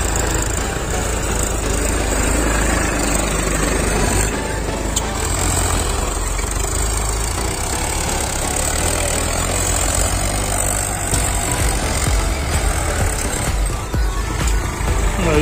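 Mahindra 415 and Massey 241 tractors pulling cultivators through a field, their diesel engines droning steadily and loudly at a low idle-like chug for the whole stretch, with no voices over it.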